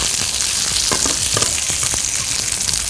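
Peaches fry in hot butter in a pan, a loud, dense crackling sizzle that continues throughout, with quick spatula flips and scrapes scattered across it.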